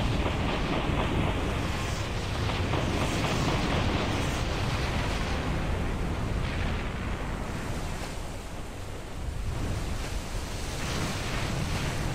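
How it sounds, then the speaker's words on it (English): Torpedo explosions and heavy gunfire during a WW2 Soviet versus Japanese battleship fleet battle in a naval strategy game, a dense continuous roar of blasts and surf-like rumble, loud and sustained throughout with a brief dip midway. "Oh, torpedoes incoming."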